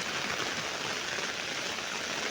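Heavy rain pours down in a dense, steady roar over a waterlogged village, a continuous close hiss of drops with no pauses and no voices.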